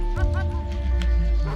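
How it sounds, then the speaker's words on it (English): A farm dog on an Icelandic horse farm barks and yips several times in short bursts at nearby horses and foals, fairly close, with a steady background hum throughout. "A worker calls Jimmy the dog to chase away the foals and horses."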